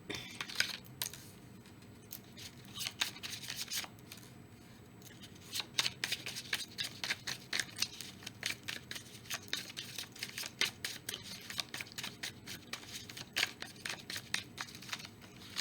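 Cartomancy cards are shuffled by hand in short, crisp riffling and tapping bursts that repeat irregularly throughout, fairly quiet and close with no voices.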